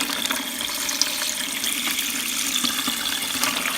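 Water rushing steadily through a small homemade micro hydro setup under low pressure, a continuous close, even hiss and splash with no voices.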